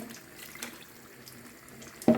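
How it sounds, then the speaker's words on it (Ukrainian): Water pours into a cooking pot of pasta on a stove, mostly soft splashing trickles before a louder gush near the end. "Додаю ще сюди водички."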